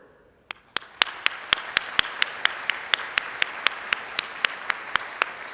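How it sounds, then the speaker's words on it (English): Commencement audience at the Weatherhead School of Management clapping in a slow, steady unison rhythm, sharp evenly spaced claps about four per second over a soft bed of scattered applause, emerging from near silence. "Okay, that's enough applause for them."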